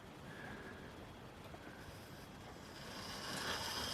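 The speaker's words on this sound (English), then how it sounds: "You can obviously hear the motor which is in the tender" A Somerset and Dorset model train set runs with its locomotive's motor housed in the tender, giving a steady, soft mechanical whir and rolling rumble that swells slightly toward the end, with no voices.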